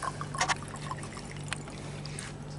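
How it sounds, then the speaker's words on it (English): Liquid poured from one container into a lab beaker during an acid dilution, a brief splashy trickle near the start and faint dribbles afterward over a steady low hum. "And I'm going to pour each of these into a beaker"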